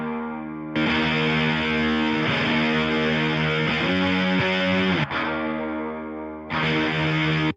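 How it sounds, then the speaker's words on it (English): Electric guitar driven through a JST Bassforge Hellraiser fuzz pedal, playing thick, saturated fuzz chords that ring steadily, cut off briefly near five seconds and again around six and a half, then return loud and up close. "the fuzz pedal is where most of our distortion and fuzz comes from"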